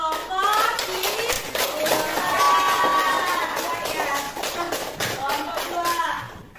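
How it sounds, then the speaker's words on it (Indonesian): Students in a classroom clap for a presenting group, a fairly close, uneven patter of many hands with children's voices chattering over it. "Tepuk tangan untuk kelompok 3"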